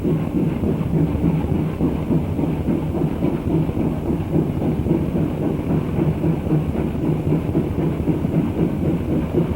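A Reading Railroad Consolidation steam locomotive, number 1953, departs with a train, giving off a continuous low, heavy rumble that holds steady and fairly loud throughout.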